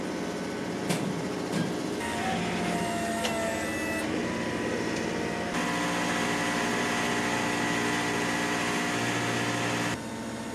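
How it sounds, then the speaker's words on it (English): Hydraulic pump on a Ring of Fire carnival ride runs with a steady mechanical drone and whine, a few clanks early on, then a louder sustained hum that cuts off near the end. "The hydraulic pump is started so the signs can be raised."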